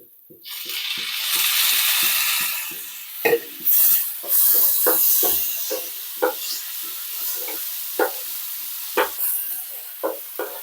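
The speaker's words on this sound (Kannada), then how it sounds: "ಇವಾಗ ಇದು ಚೆನ್ನಾಗಿ ಫ್ರೈ ಆಗಿದೆ" Onion masala with tomato fries in a pan for mushroom gravy, giving a steady close sizzle with repeated scraping stirs. The hiss swells and fades while spatula knocks recur throughout.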